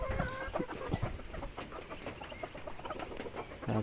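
A flock of poultry including newly hatched chicks, with dense overlapping chirps and clucks at close range that hold fairly steady and busy throughout, and no talk.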